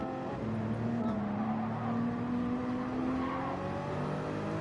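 A V8 biturbo race car engine in Gran Turismo 7 drones steadily near and loud, a sustained revving tone that holds and climbs slightly without pause.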